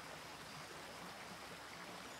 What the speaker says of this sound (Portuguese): O riacho é... bonito!